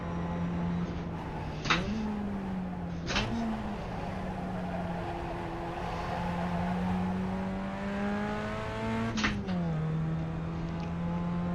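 A Mini's engine in a racing video game revs hard against the rev limiter, holding a steady high drone broken by three sharp gear-change blips, loud and alone with no talk.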